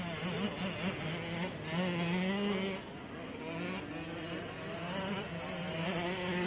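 A Husqvarna dirt bike, number 37, races up and down the hills of a national motocross track at a grand prix event, its engine droning and shifting pitch steadily with a second engine tone layered beneath.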